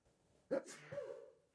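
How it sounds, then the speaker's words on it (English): A single sharp sneeze bursts out close by, followed by a brief voiced tail, with faint background noise before it. "Bless you."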